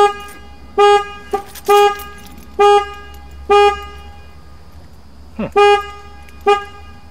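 Car horn set off repeatedly from a remote key fob, about eight short loud honks in irregular bursts across several seconds, close by in an outdoor garden.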